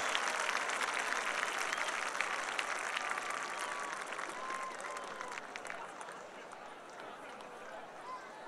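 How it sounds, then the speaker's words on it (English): Large stadium crowd at a college football game applauding for student alumni ambassadors, a broad wash of clapping and cheering that slowly fades, distant and sustained. "let's have a great big Blue Hens round of applause for all of our University of Delaware student alumni ambassadors"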